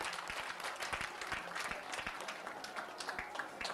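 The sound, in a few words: congratulatory applause at awards ceremony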